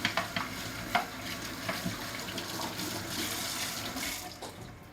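Smoked cured pork ribs being washed and scrubbed with steel wool under a running kitchen tap, a steady close stream of water with scattered scraping knocks, no talking.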